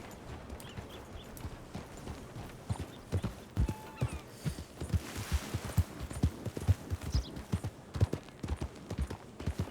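Galloping horse hooves in the Red Dead Redemption video game, a fast, steady rhythmic clip-clop that carries on throughout at moderate loudness with faint ambient background.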